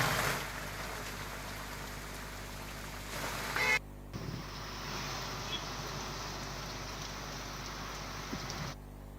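Heavy rain pours over a rural area of Bhavnagar near Mahuva as a steady, dense hiss that holds throughout, with an abrupt shift in texture partway through.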